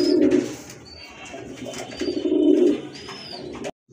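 A pair of running pigeons coos close by in low, throaty, rolling bursts, one at the start and another a couple of seconds later, with faint high chirps in between before the sound cuts off.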